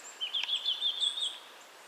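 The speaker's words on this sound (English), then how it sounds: "But the birds are very chirpy this morning," Small birds chirp and tweet in a cottage garden on a quiet morning, a string of thin, fairly faint calls close together with no talking.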